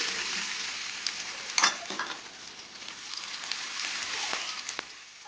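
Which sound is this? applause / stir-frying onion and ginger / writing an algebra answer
stir-frying onion and ginger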